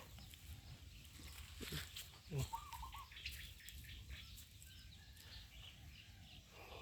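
Young yellow white-tailed roosters chase and peck at each other on a farm, giving a few faint chirps and clucks with light scuffling and footsteps amid quiet background noise and low talk.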